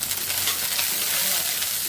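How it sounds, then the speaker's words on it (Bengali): Lentils fry in hot oil with a steady, close sizzle and faint stirring crackle that holds at an even level throughout, with no one talking. "এই যে ডাল তেলে দিয়ে দিচ্ছি।"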